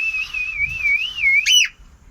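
A person whistles a steady, wavering tune to pet birds, including a cockatiel, in an indoor bird room, ending in a brief sharper chirp-like flourish; close and clear with no talking.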